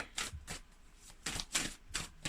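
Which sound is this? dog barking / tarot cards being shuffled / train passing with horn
tarot cards being shuffled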